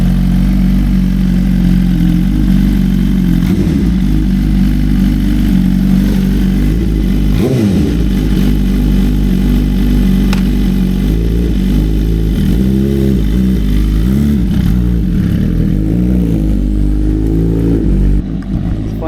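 A Suzuki GSXR1000R sport bike engine sits idling in neutral with a steady low rumble, loud and close, broken by several quick throttle blips that rise and fall throughout.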